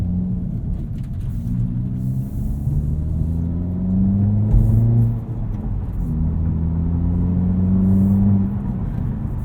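Hyundai Elantra N driving, a steady low engine drone with rising and falling harmonic pitch as it accelerates and shifts, heard from inside the cabin with a brief surge midway.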